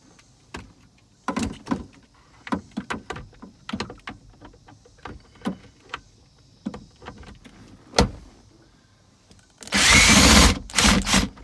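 A power drill removes bolts from a Ford Expedition safety control module, preceded by many sharp clicks and taps of tool handling, then a loud sustained whir followed by a few short bursts up close.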